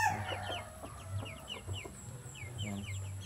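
A mother hen with her Asil chicks: soft low clucks from the hen mingle with rapid high cheeping peeps from the chicks, a busy close chorus throughout.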